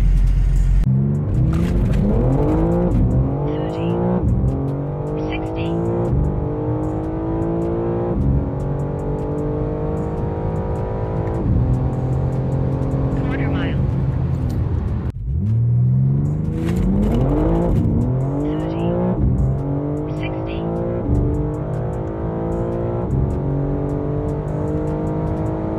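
A JB4-tuned BMW M4 Competition xDrive on a drag strip pulls hard through several gears, its engine note climbing and dropping at each shift, with a brief lift around the middle before another full-throttle run, loud and close throughout.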